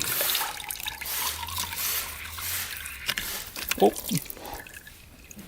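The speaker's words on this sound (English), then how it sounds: "A lot of coolant coming out of there." Coolant drains out of a Honda CR125 dirt bike in a splashing, trickling pour with a few louder gurgles and drips near the end, while a voice briefly exclaims.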